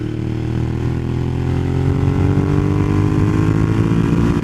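A Ducati Monster 1200S roars loud and steady while ridden, its engine note rising gradually as the bike pulls through a gear, with no talking.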